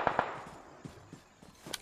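Gunfire in the video game PUBG on the Sanhok map: two sharp cracks open the clip, followed by fainter, scattered distant pops and a final crack near the end, with no talking.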